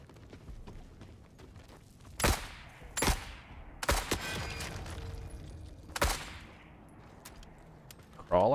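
Machine gun fire in The Forever Winter, heard as several separate sharp bursts spaced a second or so apart, each ringing out briefly, with a low game ambience between them and no talk.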